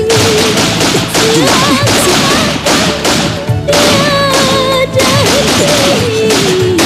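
Rapid gunfire bursts and thuds crack through a TV drama scene with police, dense and loud over tense music and shouting, continuing throughout.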